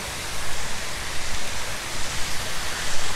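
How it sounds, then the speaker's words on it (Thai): Steady broadband rushing of the Doi Ang Khang waterfall, a continuous roar heard up close and fairly loud with no talk over it. "นี่ตรงนี้เป็นน้ำตก"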